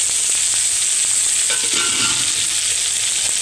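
Potato and eggplant pieces frying in oil for a Telugu aloo vankaya curry, a steady close sizzle with soft stirring scrapes and brief clinks, no voices over it.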